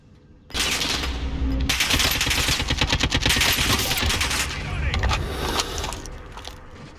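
Rapid automatic gunfire in Call of Duty Warzone bursts in after a brief quiet start, then rattles loud and nearly nonstop in dense, overlapping volleys until the end.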